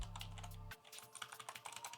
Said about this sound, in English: and you can type in your password